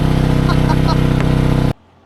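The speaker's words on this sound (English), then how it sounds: "We'll go ahead and warm up the engine this time." A dirt bike engine warming up idles steadily with a throbbing low rumble, then cuts off abruptly near the end, leaving near silence.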